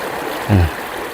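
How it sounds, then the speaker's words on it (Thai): Fast, powerful river water rushes through the Kaeng Ka Bao rapids as a steady, full wash of noise, with a brief low thump partway through. No voices are heard. "จุดที่น้ำไหลแรงมาก น่ากลัวมากนะครับ"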